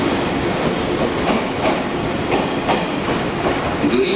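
A JR 185 series out-of-service train pulls out of Ueno station, its wheels clattering steadily over rail joints with a continuous rolling rumble, close and loud throughout.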